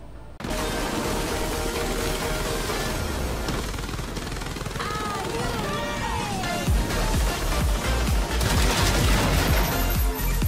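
Guns in Space Engineers fire continuously in rapid automatic bursts, loud and close, layered over a busy mechanical game din with occasional sharper impacts.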